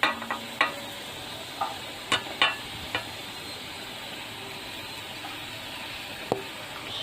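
A soft sizzle of masala spices frying in oil for a potato samosa filling, with a few sparse clicks and light stirring taps over a steady low hiss.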